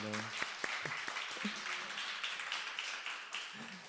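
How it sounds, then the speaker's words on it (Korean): A church congregation applauds together during a Sunday service, a quick scatter of claps swelling into steady applause, with a voice briefly heard at the start. "우리 서로에게 격려의 박수 한번 할까요?"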